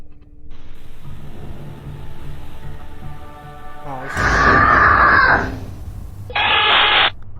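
Loud, piercing scream picked up by a Ring nanny cam in a toddler's room, a harsh burst about a second long cutting through static hiss, then a second shorter noisy burst, with narration under it.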